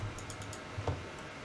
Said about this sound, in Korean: 컨트롤 키 누르고 더블 클릭